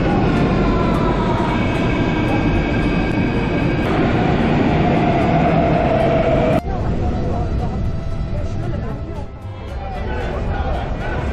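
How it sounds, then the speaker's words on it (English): A metro train pulls into a station in Greece with a loud rumbling roar and squealing wheel tones that shift as it slows, then a sharp clunk and quieter hiss as it settles; indistinct chatter sits under the noise. "Here's the metro."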